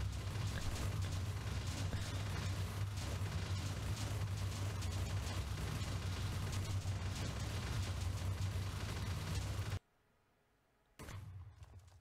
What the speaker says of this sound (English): That's quite a bit of explosions going on.